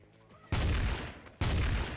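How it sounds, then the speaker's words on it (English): Two loud bursts of gunfire from a Trouble in Terrorist Town match, each broad blast sustained for a moment, the second following close after the first. "I hear gunshots."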